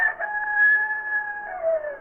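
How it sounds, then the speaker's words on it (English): A rooster crows in one drawn-out call, close and clear, holding a steady tone before dipping slightly at the end, heard alone in an old radio theater play. "Say, that rooster's fast."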